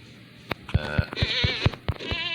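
Minecraft sheep bleat in a quick series of short, loud, close calls with a wavering tone, one after another with no talking over them.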